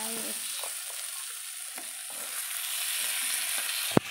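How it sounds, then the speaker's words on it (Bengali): Meat frying in a pan, a steady broad sizzle with a few faint stirring scrapes and one sharp knock near the end, close and even in level. "চলো ঢেলে দাও মাংসটা সুন্দর করে"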